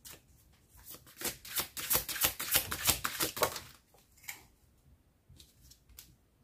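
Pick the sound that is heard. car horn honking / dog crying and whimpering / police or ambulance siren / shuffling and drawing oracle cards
shuffling and drawing oracle cards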